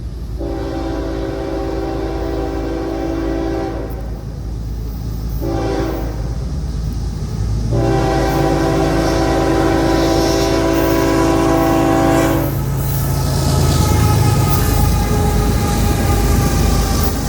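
A CSX freight train passes on a Gulf Coast line near New Orleans, its loud horn sounding in long blasts with short gaps over a continuous heavy rumble of rolling cars, close to the listener.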